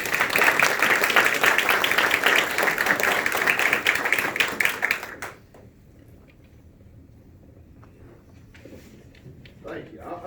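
A campaign-event audience of the Saline County Republicans applauds a 2020 Arkansas Supreme Court candidate with dense, loud clapping for about five seconds, which then stops abruptly and gives way to a quieter voice speaking.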